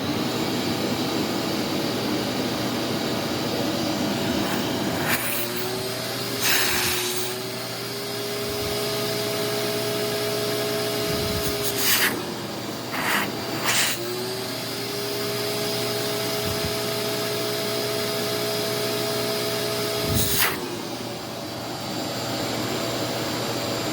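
A refurbished Ridgid 16-gallon 6.5 HP shop vacuum runs steadily and loudly throughout, its broad roaring whine shifting in pitch as the airflow is briefly choked and released, with short knocks and bumps at the hose.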